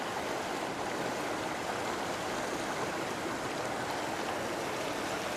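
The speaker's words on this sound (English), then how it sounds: "We're going to fill the beaker with water." Water pours steadily from a bottle through a funnel into a beaker, a continuous soft rushing splash that holds even and unbroken throughout with no talk.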